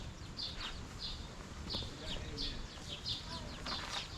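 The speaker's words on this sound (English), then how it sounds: "Lots of nice birds around." Birds chirp repeatedly in short bright bursts at Upper Canada Village in Ontario, several calls overlapping at a moderate distance over a soft outdoor background.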